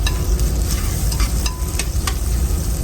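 Sausage frying in a pan with bacon grease, a loud, dense, steady sizzle with a few sharper crackles and light stirring taps throughout.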